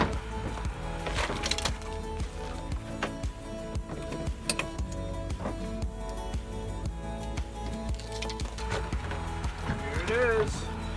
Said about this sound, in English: we are in the process of removing all the clips and screws